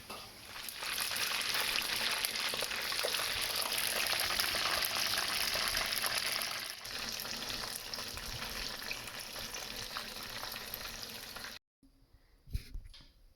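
Beer-battered Grimsby haddock pieces fry in a pan of hot oil, giving a loud, dense, continuous sizzle that dips midway and then cuts off abruptly near the end, leaving a few quiet knocks.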